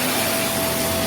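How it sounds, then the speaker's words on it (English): Vax Mach Air upright vacuum cleaner running on low pile carpet, a loud, steady motor roar with constant airflow hiss and a faint tonal whine. "move it over to the low pile carpets and the suction is great"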